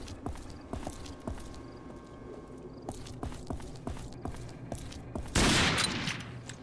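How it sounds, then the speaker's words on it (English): Gunfire in the first-person shooter RAGE: a run of sharp single shots and a burst near the end, mixed with footstep-like clops and game ambience, with no speech. "I didn't mean to shoot"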